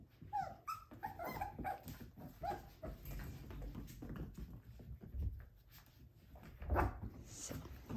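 Five-week-old F1b Cavapoo puppies whimper, yip and give small growls, a litter making high, thin cries in scattered bursts over a busy, shuffling background.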